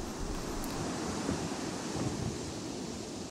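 Wind gusts outdoors on a windy day at the beach, a steady broadband rush buffeting the microphone at low level for a few seconds, with no talking.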